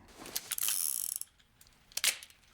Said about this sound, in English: Can't get more dependable than a wheel gun.